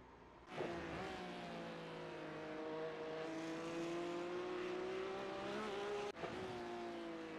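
A Porsche Cup race car in an iRacing race at Barcelona holds a loud, sustained engine note that climbs steadily through a long pull, then drops sharply at a gear change near the end before picking up again.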